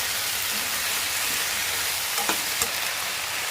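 Ivy gourd being stirred as it fries in a pan with curry leaves, a steady hiss of frying filling the background with a few soft scrapes from the spoon.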